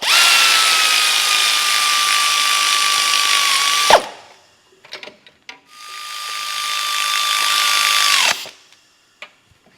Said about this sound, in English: you might be able to get a ratchet up in here